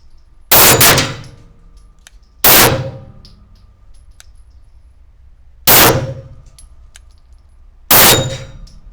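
Four sharp metallic clangs of 9 mm Canik TP9SA pistol rounds striking steel gongs, each a loud crack with a ringing tail, spaced irregularly about two to three seconds apart with quiet between.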